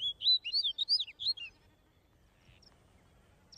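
A male snow bunting, a small Arctic songbird, sings a quick run of bright, high chirping phrases close by for about a second and a half, then falls quiet apart from a couple of faint distant chirps.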